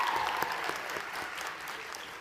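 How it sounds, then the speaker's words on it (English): A crowd at a 2021 high school graduation ceremony claps for about two seconds, a quiet, steady patter of applause heard from a distance. "That's a good one to clap for."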